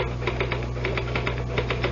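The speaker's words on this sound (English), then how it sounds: "Just hit the typewriter, Harry." Rapid, even clacking of a typewriter being typed on in a radio drama, a close, steady run of key strikes with no voices.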